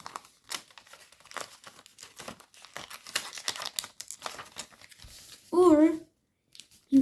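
Paper wings of an origami fighter jet being folded and creased, giving crinkling, rustling bursts with a louder crisp crackle near the end, close to the microphone.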